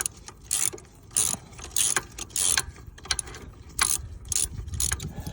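A ratcheting tool turns a 15 millimeter fastener on a small hand-held plate, giving close, rapid bursts of clicking ratchet strokes with short pauses between them, and no one speaking.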